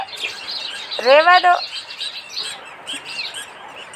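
Sparrows chirping and squabbling near a home nest, with busy, overlapping tweets throughout and a brief burst of louder calls, while a person speaks a few words nearby.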